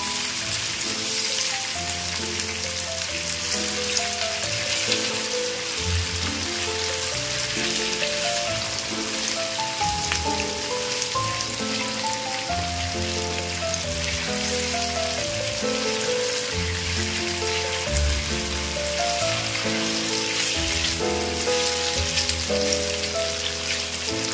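Paneer pieces fry in spice-coated oil in a pan over a flame that is not kept low, giving a steady, dense sizzle throughout, with a continuous musical backing underneath.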